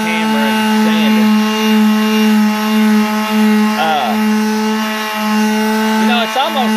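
A power sander works guide coat on the body of a 1976 Monte Carlo, giving a steady, close motor hum throughout while someone talks over it.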